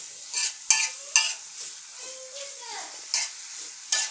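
Onion and capsicum frying in butter in a pan for pav bhaji, with a soft sizzle broken by several loud scraping stirs of a spatula against the pan.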